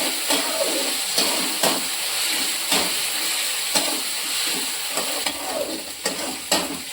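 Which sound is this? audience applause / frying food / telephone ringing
frying food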